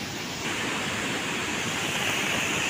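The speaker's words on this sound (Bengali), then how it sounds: "জল ভয়ঙ্কর স্পিডে জল বেরোচ্ছে লক গেট থেকে" Water rushing from the lock gates of the D.V.C Barrage on the Damodar: a steady, dense, loud roar of churning flow with no break and no talk.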